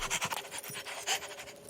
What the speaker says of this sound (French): ou je lâche le chien